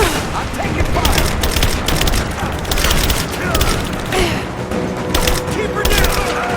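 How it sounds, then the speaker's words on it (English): Enemy gunfire in the video game Rise of the Tomb Raider, dense rapid shots and booming impacts in a continuous loud barrage, with voices shouting over it. "I'm taking fire!"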